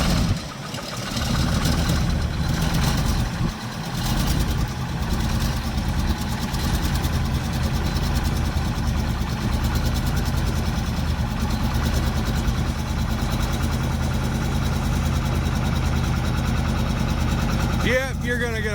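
A Caterpillar 1160-powered Ford C800 diesel truck cold-starts and settles into a loud, steady, rough idle that runs for a long stretch, its low rumble continuous and close.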